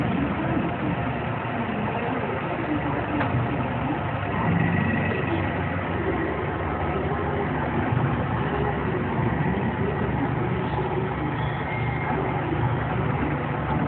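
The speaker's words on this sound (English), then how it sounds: "This is a video of a jet 14 by 40 engine lathe with digital readout." A Jet 14x40 engine lathe with digital readout and a three-jaw chuck runs at a steady pace, giving a continuous, even mechanical hum with no change in level and no talking.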